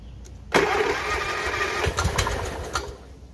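An Ariens Zoom 1840 zero-turn mower engine, choke worked by hand with the engine cover off, cranks and then catches, running in a loud, steady mid-pitched drone that holds until it drops away near the end.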